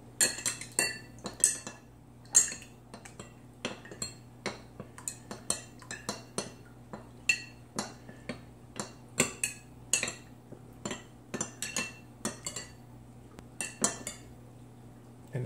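A utensil stirs Amazon Solimo 2-ply toilet paper back and forth in water in a container, making a steady run of light clinks and taps against the container's sides. No one speaks.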